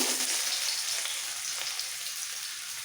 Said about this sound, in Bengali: ফোড়নটা ভাজা হয়ে গেলে দিয়ে দেবো একটা বড় সাইজের পেঁয়াজ কুচোনো মিহি করে কুচোনো